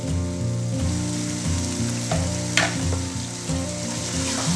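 Loud sizzling and frying as garlic-ginger paste is stirred for chicken biryani, a spoon or spatula scraping through the pan in repeated strokes, close up.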